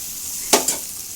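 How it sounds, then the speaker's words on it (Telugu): Raw banana pieces frying in oil for a curry make a constant hiss, with two quick scraping stirs of the spoon close up partway through; no voices. "మగ్గి పెట్టుకుని ఒక 5 నిమిషాలు అలాగా ఫ్రై చేసుకుంటూ ఉండాలి మనం"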